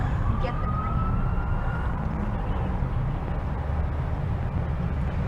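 An ambulance siren wails faintly in the distance at an outdoor Memorial Day ceremony, its rising tone thin above a steady rumble of traffic and crowd noise.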